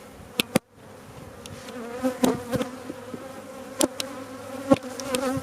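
A steady swarm of honey bees buzzing close by at an open hive, with a few sharp knocks and clicks as the hive's top cover is set back on, cutting through the drone.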